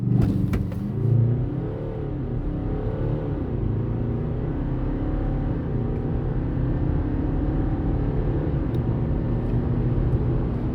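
A 2025 BMW X3 xDrive20d diesel SUV with 197 hp accelerates hard from 0 to 100 km/h, its engine note rising steadily as a loud, sustained drone from inside the cabin with a rumbling low end, and no talking.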